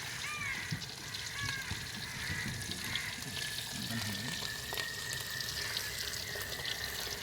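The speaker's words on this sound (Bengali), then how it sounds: "মাছ ভাজা হচ্ছে, মাছ ভাজা হচ্ছে প্রথমে।" Fish frying in a pan while cooking outdoors near Dogra sea beach in Odisha, heard as a steady, faint crackling hiss that runs throughout with soft background sounds.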